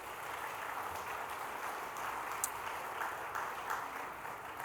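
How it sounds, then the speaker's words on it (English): Steady, faint crowd applause at a VFF event speech for Maurizio Bevilacqua, a dense even patter of many hands sustained throughout with no pauses. "I have somebody in the crowd that actually starts the applause"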